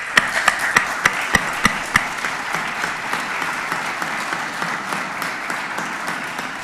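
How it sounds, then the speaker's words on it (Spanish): An audience at a lecture on Christianity and the renewal of society applauds. The sharp individual claps at the start give way to a steady, moderate round of clapping that thins out gradually, and no one talks over it. "Le damos un aplauso."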